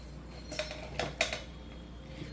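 A metal lid lifted from a pot of chicken curry makes a few light clinks and scrapes, close and fairly quiet over a low background hum.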